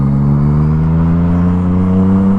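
A Yamaha MT-09 motorcycle engine runs loud and close, a steady even drone held at one pitch throughout, with no rise or fall.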